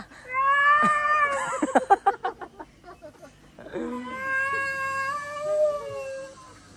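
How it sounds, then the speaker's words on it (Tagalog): A cat meows loudly and repeatedly up close, long drawn-out wails broken by a quick burst of short cries. "Pusa, pusa."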